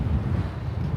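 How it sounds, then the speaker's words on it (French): Strong outdoor wind buffets the microphone, producing a heavy, rumbling low roar that gusts and flutters continuously without any voices. "j'espère que vous m'entendez toujours bien parce qu'il y a beaucoup de vent"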